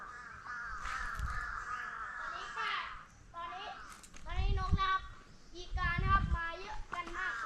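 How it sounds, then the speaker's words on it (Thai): Crows caw loudly and repeatedly on a forested sandstone hillside in Thailand as a flock of ten to twenty birds scatters, their harsh calls overlapping in bursts near and far. "อันนี้อีกา นี่แตกฝูงละโอ้ สิบยี่สิบตัวครับ"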